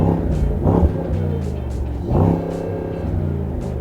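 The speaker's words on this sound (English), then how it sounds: "So that's enough revving, you've got to stop." A Mercedes-AMG SL sports car engine revs up hard twice, rising to a snarling roar then dropping back to a throbbing idle, close and loud.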